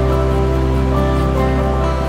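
The large Curug Citambur waterfall roars as a dense, constant rush of water, loud, close and unbroken, with no voices.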